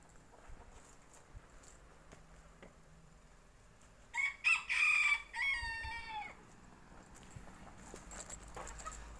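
Chickens gathered at an old farmhouse in a park crow and cluck in a loud burst midway, a rooster's call with trailing clucks standing out over quiet room tone.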